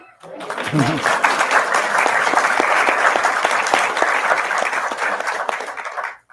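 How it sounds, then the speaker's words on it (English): An audience at a private screening of Killers of the Flower Moon bursts into sustained applause, many hands clapping loudly and evenly, with a brief voice at the start before the clapping fades out. "Y'all can clap."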